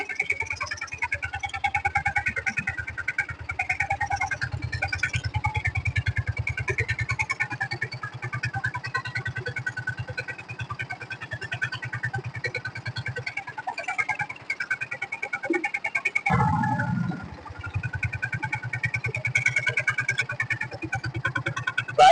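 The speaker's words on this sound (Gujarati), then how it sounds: "બાઇક ચાલવે જાય." A motorcycle engine runs steadily at close range on a farm, where the bike is used for a makeshift rig that sprays pesticide on mango trees. The low engine throb continues throughout and surges briefly near the end.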